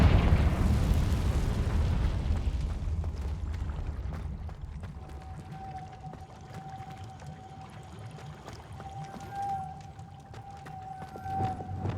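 A Confringo explosion spell in Hogwarts Legacy bursts loudly at first, then decays into a long rumbling roar with a thin sustained tone and scattered crackles.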